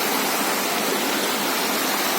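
After rain, water pours down over rocks in a steady, dense rushing hiss, loud and close, with no pauses or voices.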